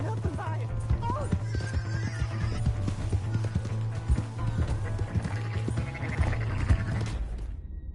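A horse in Red Dead Redemption 2 whinnies loudly amid clip-clopping hooves and a steady low drone, with game background effects continuing throughout.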